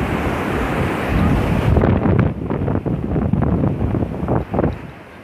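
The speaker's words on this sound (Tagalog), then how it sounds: "Yan yung lakas ng pickup ng hangin." Strong wind roars and buffets against the microphone on a Boracay beach, a loud continuous rush that gusts and eases, with faint rustling of coconut palm leaves underneath.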